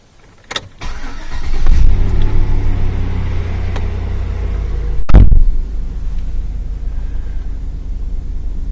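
A GM truck engine runs steadily at a fixed idle, a loud close rumble that holds throughout, with a sharp click or bump partway through and no talking.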